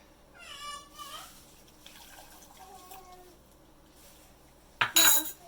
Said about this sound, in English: Now I'm going to put some water.